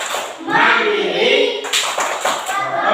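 Children's rhythmic clapping from the PPK clap chant, done standing in a classroom, runs under loud unison chanting, with sharp clap bursts near the end.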